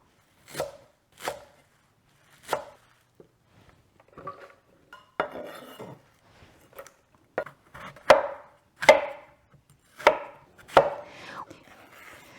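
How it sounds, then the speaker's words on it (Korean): Minari (water dropwort) is chopped with a knife on a board for juice: a dozen crisp, loud knocks come at uneven intervals, clear and close, with no talking. "미나리를 좀 썰어 주시고요"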